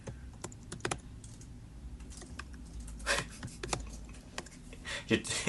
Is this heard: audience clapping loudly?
no